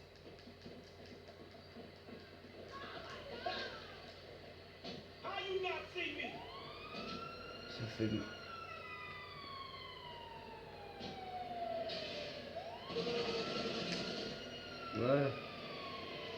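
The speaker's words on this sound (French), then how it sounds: "je suis à bord d'un camion de pompiers" Fire truck siren in the video game GTA V, wailing in rising and falling sweeps at moderate distance, mixed with game engine noise and other effects while someone talks briefly.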